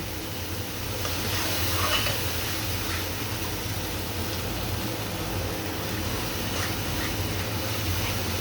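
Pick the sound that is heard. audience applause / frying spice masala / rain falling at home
frying spice masala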